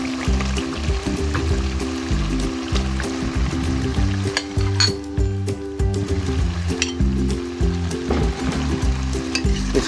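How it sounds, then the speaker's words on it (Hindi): Chopped potatoes, about a kilo, go into a roasted masala frying in ghee for a potato curry, raising a loud, steady, close sizzle and crackle that runs throughout. "तो इसमें अब हम शामिल करेंगे आलू।"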